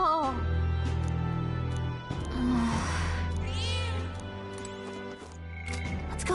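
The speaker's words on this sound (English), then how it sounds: "That's a good kitty." In the video game Metaphor ReFantazio, a cat meows over game music and ambient sounds, a rising-and-falling call heard near the middle amid a busy mix.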